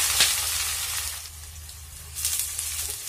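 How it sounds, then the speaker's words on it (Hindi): Whole garam masala spices and onions dropped into oil heated over a medium flame for a chicken stew, giving a bright, steady sizzle that flares at the start and again near the end, close and alone. "अब इसमें ये सारे खड़े गरम मसाले जाएंगे और फौरन बाद ही हम इसमें ये प्याज शामिल कर देंगे"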